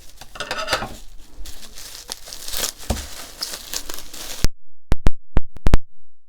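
Close crinkling and rustling of plastic packaging being handled and torn, followed by a few sharp taps and clicks.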